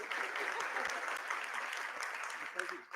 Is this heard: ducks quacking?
no